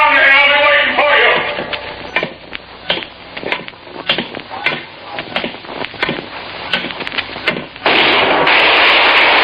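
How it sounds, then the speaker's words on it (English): Gunfire in a 1953 old-time radio detective drama: several sharp, loud reports crack out in quick succession over background noise, framed by voices before and after. "Good shot, Dollar."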